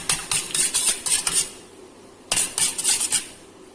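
A fork beats egg with milk in a bowl. Two bursts of quick, bright metallic clinks are separated by a short pause, close and alone with no speech.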